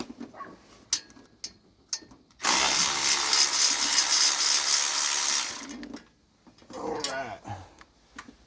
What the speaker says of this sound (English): Make sure my ratchet's going the right direction.